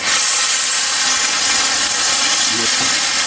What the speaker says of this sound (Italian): adesso vado a mettere un po' d'acqua